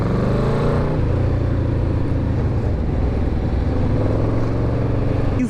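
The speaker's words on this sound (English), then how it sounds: "You feel that massive engine underneath you. This is, of course, it's a V4. Oh my god, and it sounds great." Yamaha VMAX V4 motorcycle engine running steadily up close, a loud deep rumbling idle with pulsing low-end throb and slight rises in revs throughout.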